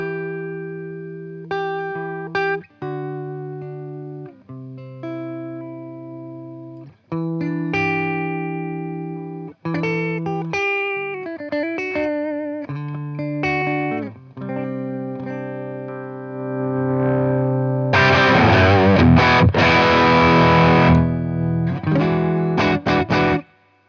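Telecaster electric guitar played through a boutique overdrive pedal, picking sustained single notes and chords in phrases with short pauses, ending in a louder, thicker strummed passage.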